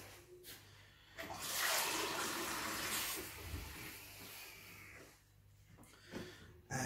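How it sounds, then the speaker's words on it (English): Water is poured from a tap into a small jug while making pastry for a rabbit pie, a hissing, splashy stream that starts suddenly, runs for a few seconds, then fades, with a brief gush near the end. "Get some water."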